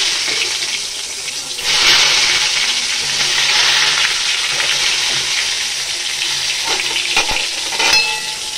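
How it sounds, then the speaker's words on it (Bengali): Brinjal (eggplant) slices fry in oil in a hot wok (kadai), producing a loud, steady hissing sizzle that swells early on, with a few faint clinks and no talking. "তো বেগুনটা আগে ভাজা করে নিই।"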